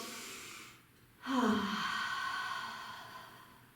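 During a child's pose rest in a yoga class, a long, audible breath is drawn in then slowly released, a soft, close airy rush that swells and fades over several seconds against quiet room tone.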